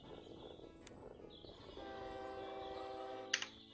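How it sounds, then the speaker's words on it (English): A train horn from the OpenTTD video game sounds as a long, steady, tonal blast that swells midway, with a sharp click near the end, quiet and alone. "That's a train this time, not just a car."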